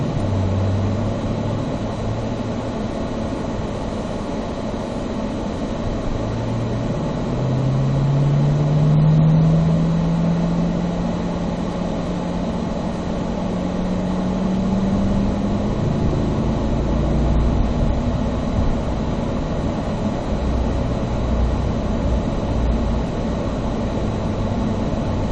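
A Corvette on a race track runs up through the gears, its engine a low drone heard from inside the car that climbs steadily in pitch over several seconds, then settles into a steady hum with road rumble and no talk.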